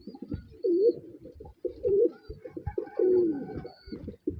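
Red-marked pigeons cooing close by, several soft rolling coos broken by short gaps and quieter shuffling murmurs.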